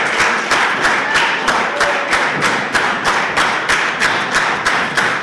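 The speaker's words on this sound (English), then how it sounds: "The crowd trying to get behind Sean." A wrestling show crowd claps rhythmically in steady unison beats, loud and close, with cheering noise underneath and no talk.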